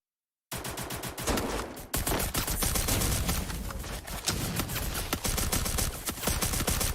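Bursts of rapid gunfire from a Free Fire esports grand final at the FFWS Global Finals 2025 in CS mode, loud overlapping automatic shots that fire almost continuously with brief gaps.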